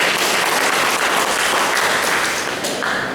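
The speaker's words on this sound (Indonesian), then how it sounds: "Tepuk tangan." An audience applauds at a PGRI teachers' association installation ceremony, producing dense, steady clapping that fills the whole stretch at an even loudness, easing slightly near the end with no one speaking.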